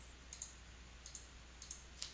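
Mouse and key clicks at a computer running SolidWorks, including the Escape key, come as quiet paired clicks in three or four small clusters over a low steady hum, with no talk.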